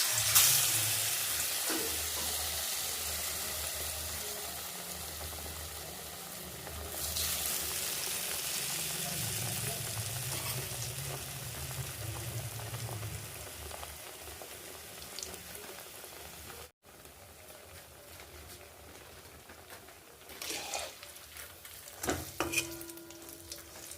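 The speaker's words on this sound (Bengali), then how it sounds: "এবার কড়াইয়ের মধ্যে আমি গরম গরম তেলে কড়াইয়ের মধ্যে ছেড়ে দেবো।" Besan-coated eggplant slices (beguni) fry in hot oil in a wok, giving a steady sizzling crackle that swells after the slices go in and carries on evenly, with a few clinks near the end.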